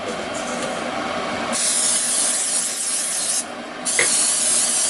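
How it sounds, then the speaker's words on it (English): A new can of cooking spray hisses out in two bursts, the first lasting about two seconds and the second following after a short pause, each loud and close. "we'll go for our new can of cooking spray."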